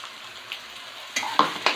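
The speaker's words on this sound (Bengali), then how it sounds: "ভেজে নেব" Spices fry in a pan with a soft, steady sizzle, close and quiet, broken by a few brief clinks and stirring sounds near the end, with no talking.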